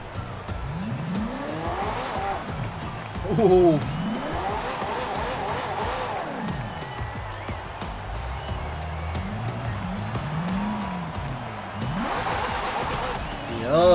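McLaren P1 in Forza Horizon 4 roars through repeated revving gear shifts with rising and falling engine pitch, punctuated by sharp tire squeals, loud and close, with a brief exclamation from a player.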